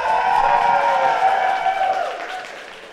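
Live show crowd applauding and cheering at Kava Bar at a Sarasota, Florida music event; a dense burst of clapping that swells and then gradually fades over a few seconds.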